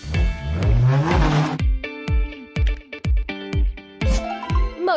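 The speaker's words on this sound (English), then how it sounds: "Formula car." Cartoon-style formula racing car engine, a rapid series of loud, punchy revving bursts with rising whines, opening with a sweeping swell and then repeating in short rhythmic pulses close up.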